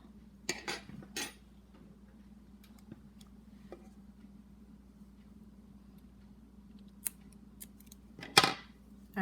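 Scissors snip crochet yarn on a tutorial tabletop, a few short crisp cuts spread across a quiet stretch with a faint steady hum behind, the loudest snip coming near the end.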